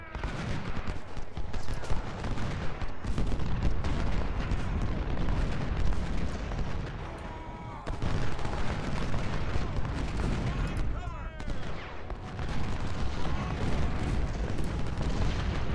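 Cannon and artillery fire rumble nearly without pause in a battle from the Civil War strategy game Ultimate General: Civil War, heavy booms and crackling volleys layered into a dense, loud wall of combat noise.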